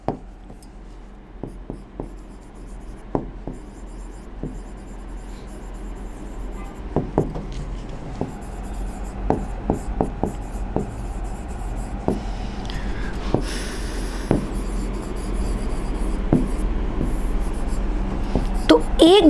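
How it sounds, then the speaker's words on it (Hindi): Marker or chalk scratches on a classroom board during a biology lesson, a run of short squeaky strokes and taps in irregular bursts, fairly close, with faint room noise and no talk over them. "चलो ऐसे लिख देती हूँ मैं"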